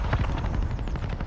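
Gunfire in a video game rattles in rapid, dense bursts close by, loud and continuous through the whole moment with no talking.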